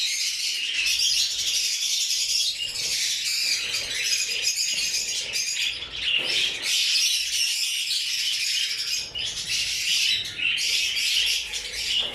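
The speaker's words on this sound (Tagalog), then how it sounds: "Nakita nyo yung pair ng parakit natin" A breeding pair of parakeets chirps and tweets steadily and close by, with dense overlapping calls and the occasional squawk going on without a break.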